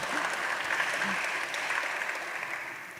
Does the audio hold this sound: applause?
yes